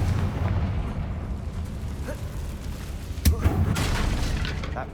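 A Confringo spell explosion in Hogwarts Legacy, heard as a dull boom with a short crackling burst near the middle, set against a steady low rumble of ambient game noise.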